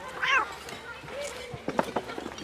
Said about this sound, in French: c'est pas le moment de s'encombrer d'un chat